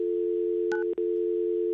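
A steady telephone dial tone hums continuously on the line, interrupted briefly by a few short keypad beeps and a momentary dropout, with no one speaking.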